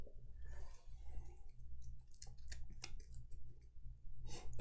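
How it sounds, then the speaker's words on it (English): Cards for the Gloomhaven: Jaws of the Lion board game being handled and shuffled on a table, with soft scattered clicks and riffling snaps over a low background hum, quiet and close. "I got to shuffle the sludge deck"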